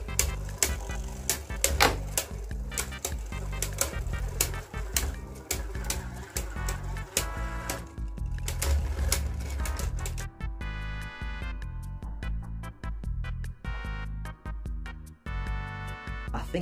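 Hell Salamander and Gaia Genesis Beyblades battling in a stadium, rapid metallic clicking and clattering hits over a continuous whirring spin, dense at first and then sparser.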